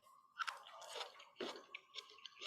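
Crunchy, vinegary, slightly spicy pickled kelp is chewed close up, with quiet crisp crunches and bites repeating irregularly.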